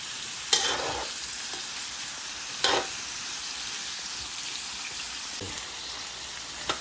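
Chop suey vegetables with carrots stir-fry in a pan under a steady broadband sizzle, with a few sharp clatters of the spatula against the pan.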